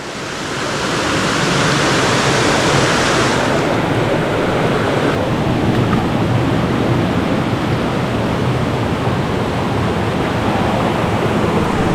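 A village stream rushes steadily, a loud, continuous broadband wash of flowing water heard up close with no talking.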